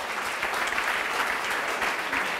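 Dense applause from a crowd at a startup pitch night, a steady wash of clapping at even loudness throughout, with no voices standing out.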